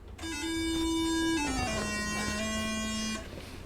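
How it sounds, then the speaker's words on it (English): Startup music from the Coleco Donkey Kong Jr. video game plays as a loud buzzy electronic tone, a held note that slides down and holds lower for a few seconds, then stops abruptly. "that startup music might be a little too ominous"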